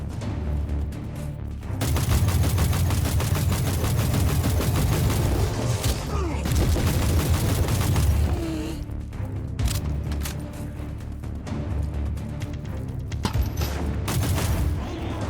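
Turret gunfire in Warhammer 40,000: Inquisitor Prophecy, sustained rapid mechanical firing with heavy booms and explosions, loud and continuous across the fight, with brief gaps between bursts.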